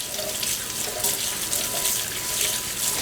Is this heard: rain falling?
no